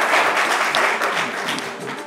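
Strong audience applause on a French-language game show, a steady wash of clapping that fades slightly toward the end.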